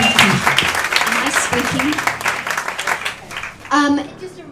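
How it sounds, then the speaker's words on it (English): Applause from a seminar audience at a mental health and children event, a burst of clapping that runs under and alongside speaking voices, with a voice rising clearly near the end. "Round of applause for Lauren being an absolute inspiration"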